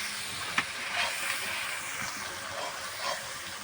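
Garlic paste and spices fry in a pan, giving a steady, moderately loud hiss and sizzle with a few soft clinks and pops, and no one talks.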